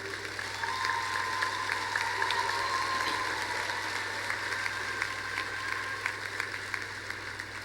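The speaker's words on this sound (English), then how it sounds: "Could you give a round of applause for those who have supported you?" Graduation audience at a university ceremony giving a round of applause for their supporters, a broad, steady patter of many hands in a large hall, sustained at even volume throughout.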